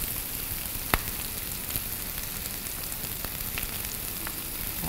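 Pork grilling on a Vietnamese barbecue gives a steady close sizzle and crackle with occasional sharp pops, continuous and fairly quiet, without talk.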